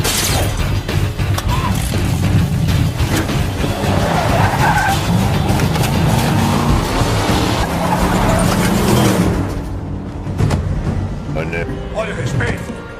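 A GT sports car's tires squeal and skid in a loud, sustained screech over engine noise and crowd-like clamor, ending with a sudden cut to quieter sound.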